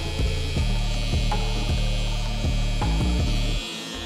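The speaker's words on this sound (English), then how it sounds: "So I'm gonna come in with my trimmer." An electric hair trimmer buzzes steadily and close during a high taper haircut, its hum pulsing in short passes as it cuts over a comb, then drops away at the end.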